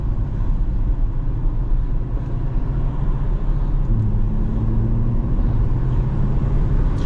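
C8 Corvette accelerating on a Palm Beach street, heard from inside: a steady low engine rumble and road roar, continuous and fairly loud, with a slight rise in pitch partway through and no talking.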